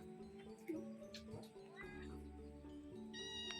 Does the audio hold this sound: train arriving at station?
no